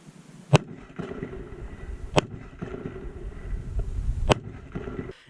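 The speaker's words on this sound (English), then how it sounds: "I've never gotten to actually shoot a white AUG before." A white AUG rifle fired outdoors at an abandoned nuclear facility, three sharp, loud single shots spaced about two seconds apart with brief echoes over background noise.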